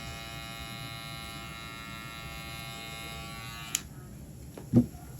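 An electric hair trimmer buzzes steadily at close range during a high taper haircut, then cuts off abruptly with a click, followed by a brief thump.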